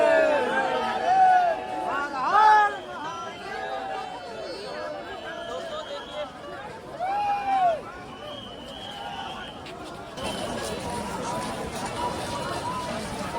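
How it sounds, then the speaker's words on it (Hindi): A large crowd of pilgrims at the Maha Kumbh Mela in Prayagraj heading to the Sangam, a steady murmur of many voices and shuffling movement, with a voice talking over it. "आस्था का सैलाब संगम में डुबकी लगाने के लिए कितनी भीड़, कितने श्रद्धालु जा रहे हैं"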